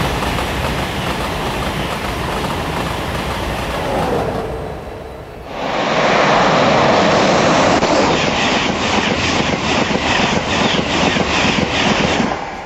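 A simulated Intercity 225 train in Train Simulator rushes past, a loud steady roar swelling into a sharper, brighter rush with rhythmic wheel clatter as the carriages go by, with no talk.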